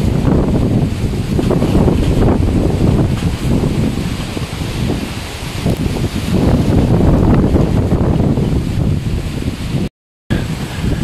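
Strong typhoon wind roars continuously against a microphone in Urdaneta, Pangasinan, a loud, broadband rush that surges and eases without pause, with a brief dropout near the end.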